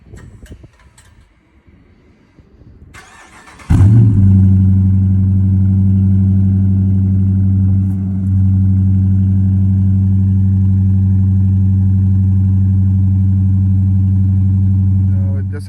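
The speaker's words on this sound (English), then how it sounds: "just a quick cold start." A Dodge Charger RT with a resonator delete and Carven exhaust tips cold-starts with a sharp crank and loud burst, then settles into a deep, steady, close idle with a brief dip midway.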